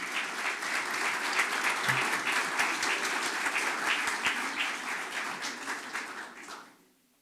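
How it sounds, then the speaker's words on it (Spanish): A room full of people applauding at a church communication gathering, loud and dense clapping held steadily for several seconds before tapering off and fading out near the end. "Le damos un aplauso."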